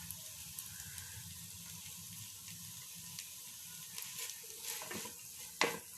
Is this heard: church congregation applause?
no